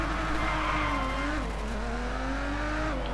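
Race cars launch off the start line in the racing game Grid, one of them a Toyota Supra, with loud, continuous engine roar and shifting revs rising and falling throughout, plus hints of tire squeal.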